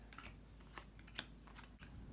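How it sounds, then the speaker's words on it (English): Cardboard exploration tiles for the Undiscovered board game are shuffled by hand, a faint, steady dry rustle with soft clicks close by in a quiet room. "Shuffle the exploration tiles and place one on each non-home sector."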